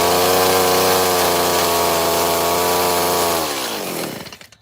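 A chainsaw runs steadily at high revs, loud and close, while relief carving a trout in wood, then winds down and cuts off near the end.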